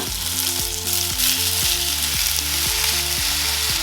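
Anchovies hit a hot pan and fry with a loud, steady sizzle for a few seconds, with a low repeating mechanical hum running underneath and no talking.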